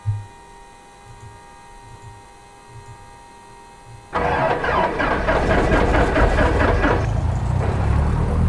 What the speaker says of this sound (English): So right now, the engine noise is very quiet.